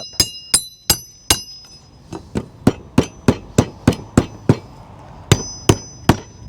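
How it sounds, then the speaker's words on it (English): Sharp metallic hammer strikes ring out in a steady series while fixing a fence, around twenty blows with short pauses, some with a bright ringing clang. "Try to hammer them through"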